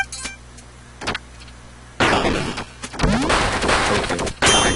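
A flintlock fires in the frantic video game Duck Game amid other gunfire, with a sharp burst and dense crackling shots following after a quieter opening with light clicks.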